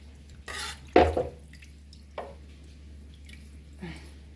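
Raw turkey necks being washed with vinegar or lime for Jamaican curry turkey neck: a few soft wet squishes and drips with one sharper splash, spaced out against a quiet kitchen.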